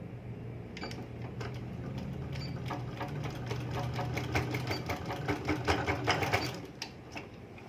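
A sewing machine runs a straight seam on a baby skirt's folded fabric, a close, rapid rattling stitch that speeds up, holds steady and eases off near the end.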